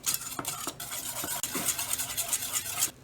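Ground nutmeg being stirred into a smooth flour paste for moussaka, a close, continuous scraping and swishing with a few brief pauses.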